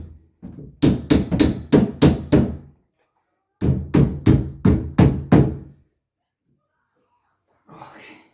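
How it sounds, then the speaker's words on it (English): A small hammer taps on a Delta shower valve insert during a valve replacement: two bursts of about six sharp, evenly spaced knocks, close and loud, separated by a short pause. "I've got to get me a small hammer"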